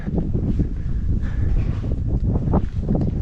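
Steady, heavy wind buffeting a microphone outdoors among houses with spiral staircases in La Rinconada, Peru, a low rumbling roar filling the whole clip with gusty swells and no voices.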